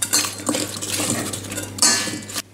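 Sliced apples and crumble ingredients being mixed in a bowl, heard as close, busy clinking and scraping of a utensil against the bowl that runs steadily with a couple of louder knocks before stopping abruptly.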